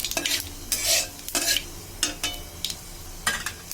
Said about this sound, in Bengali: এইবার এর ভিতরে আমি দিয়ে দেব পাঁচফোড়ন ও শুকনো লঙ্কা দিয়ে এটা হালকা ভাজতে হবে।